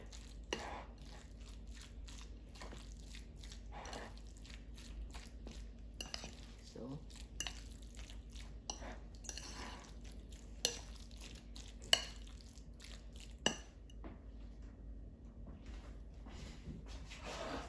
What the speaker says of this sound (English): And then we're gonna mash it, mix everything well together.